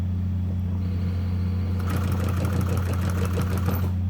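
A Consew 206RB-5 industrial sewing machine stitches through eight layers of webbing: a steady low motor hum, then a fast, even run of needle beats that starts partway through and continues to the end.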